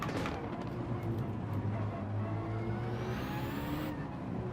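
A rally car engine in a racing video game revs hard and climbs through the gears, its loud, steady drone rising in pitch with each upshift, close and unbroken.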